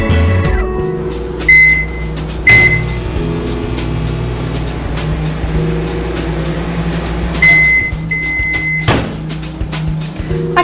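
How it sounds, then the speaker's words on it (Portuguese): A microwave oven heating food in plastic containers hums steadily, with several sharp clicks and beeps scattered through the run. "Aquecer alimentos em recipientes plásticos no micro-ondas"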